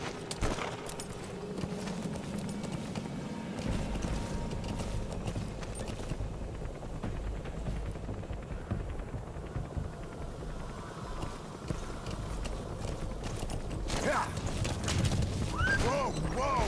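Horse hooves clip-clop in the video game Metal Gear Solid V: The Phantom Pain, a steady rhythmic stepping heard amid ambient game sounds and bird calls, fading and returning over the stretch.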